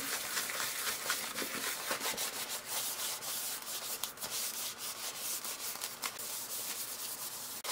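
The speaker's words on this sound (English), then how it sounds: "wipe away with a clean tissue any remaining residue on the wood" A clean tissue rubs over a wood surface to wipe away leftover residue before Danish oil goes on, making soft, continuous scratchy strokes in an uneven rhythm, close and fairly quiet, with no talking.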